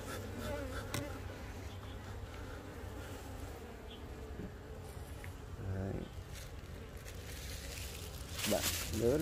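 A honeybee colony buzzes steadily nearby in a continuous droning hum, with occasional handling rustles and brief louder passes toward the end.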